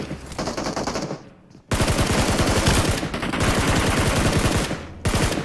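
Loud automatic gunfire in a solo-versus-squad battle game, with long rapid bursts of rounds broken by brief pauses and no talking.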